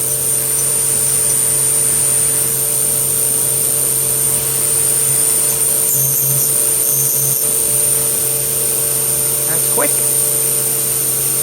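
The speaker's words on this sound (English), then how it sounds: "so we're going to machine this without coolant" A Sharp SV-2412 CNC mill cuts a part without coolant, producing a loud, constant machine drone with steady tonal whine and brief squeals, while a person speaks briefly.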